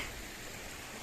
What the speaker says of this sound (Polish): Górski strumyk